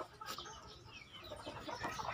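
Chickens in a breeding area give soft, scattered clucks amid faint farmyard background noise, quiet and somewhat distant, with no talking.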